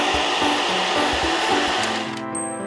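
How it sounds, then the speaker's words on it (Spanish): Cartoon vacuum cleaner running in a steady loud whirring roar, cutting off near the end as a brief chime rings out. "y pasar la aspiradora."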